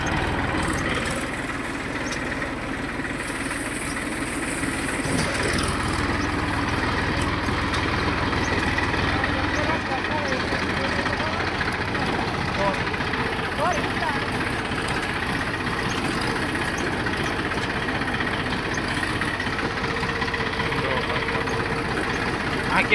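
A Deutz-Fahr tractor engine idles steadily on river sand at the Panam river, a continuous low rumble filling the whole stretch, with people talking over it throughout.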